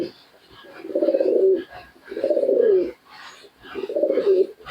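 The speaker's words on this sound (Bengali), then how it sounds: "ডাকতে ডাকতে উল্টে যাচ্ছে" A Giribaz pigeon coos in three deep, rolling phrases of about a second each, close and loud, with short pauses between calls and no talking.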